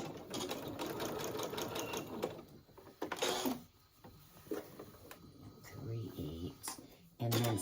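A sewing machine stitches a seam on New Look 6271 shorts, starting with a backstitch, running in short bursts that stop and restart, with a person talking over and between the runs.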